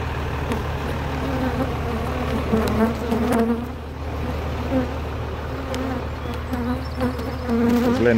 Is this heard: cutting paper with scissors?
no